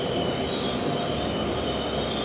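The Darjeeling Mail, a passenger train, runs through New Farakka station before dawn without stopping, heard from inside a crowded general-class coach as a loud, continuous rumble of wheels on rails with high metallic squealing.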